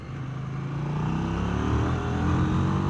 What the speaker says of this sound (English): unburnt fuel burbling through the exhaust on a road bike